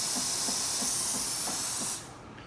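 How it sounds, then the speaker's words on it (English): A Jura ENA4 coffee machine blasts steam in a loud, steady high hiss that holds for about two seconds, then cuts off abruptly, leaving a faint residual hiss. "powerful steam coming from the machine."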